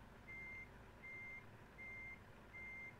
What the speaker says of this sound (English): forgot to turn off the backup beeper